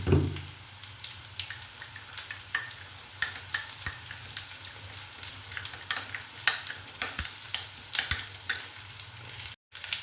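Green beans frying and being stirred with a spice mixture of Kashmiri red chili powder and salt in a pan, a steady close sizzle with repeated scraping stirs and no talking.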